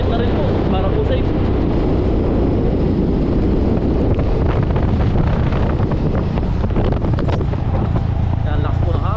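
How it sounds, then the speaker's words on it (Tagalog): Strong wind buffeting a microphone during a ride along a road, a loud and steady roar of rumbling gusts that lasts throughout and drowns out everything else. "Yan, lakas po ng hangin."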